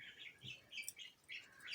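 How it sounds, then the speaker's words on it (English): Small birds chirp indoors in a room, a series of faint high tweets and short calls repeating irregularly in the background. "Sorry about the birds, they do start up when I'm doing a reading."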